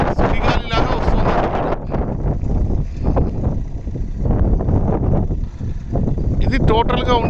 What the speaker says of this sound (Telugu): సుడిగాలిలాగా వస్తుంది.